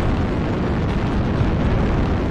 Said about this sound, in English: New target acquired. Artillery strike online.